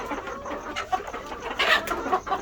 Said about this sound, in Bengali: আমাকে দেখে মুরগিগুলো ভয় পাচ্ছে